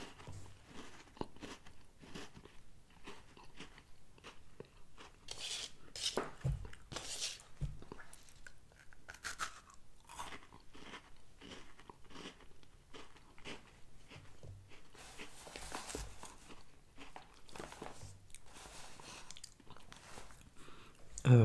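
Crunching and chewing of Milano Pumpkin Spice cookies close to the microphone, with repeated bites and crackly crunches running steadily throughout, fairly loud and up front.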